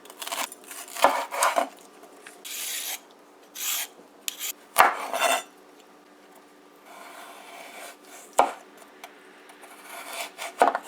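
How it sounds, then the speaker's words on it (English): A knife julienning bell peppers on a cutting board for chicken fried rice, quick rasping strokes in uneven bursts with a few sharper taps, close and clear with no talking. "Julienning your peppers."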